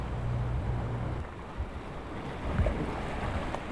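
Rough, high sea waves roll around the remote island of Dokgeodo near Jindo as a low, continuous roar with wind buffeting the microphone. A few soft thumps break through, and no voices are heard.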